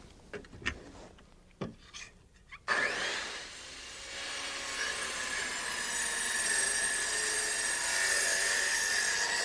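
A saw cuts a deck board along an angled line at an inch overhang, a few short handling knocks and clicks first, then a loud, steady whining, rasping cut that continues for about seven seconds.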